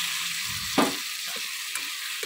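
Onion, ginger, cumin, green chilli and tomato spice paste sizzles loudly in hot oil for a Bengali fish curry, a steady close frying hiss with a brief stirring scrape and small pops.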